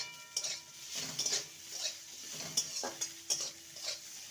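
Bitter gourd pieces frying in a pan, with a steady oily sizzle broken by repeated scraping and stirring clinks of a spatula against the metal, close and fairly quiet, no voices.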